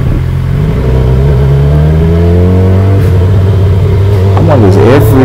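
A motorbike engine runs loud and close while riding through downtown Dallas, its steady drone rising and falling in pitch as the throttle opens and eases.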